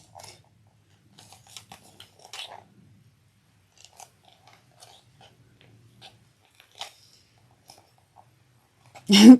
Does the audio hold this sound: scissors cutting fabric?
yes